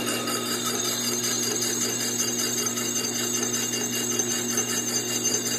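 A small lathe running in a dining room, giving a steady mechanical hum with a faint high whir and no pauses, moderately loud and alone throughout.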